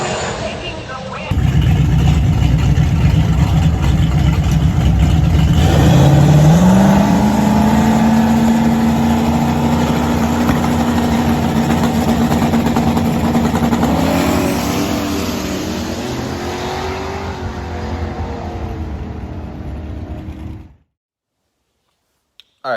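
A heads-up no-time drag race car at Rock Falls roars loudly and close, its engine pitch climbing as it accelerates, then fading away before the sound cuts out abruptly.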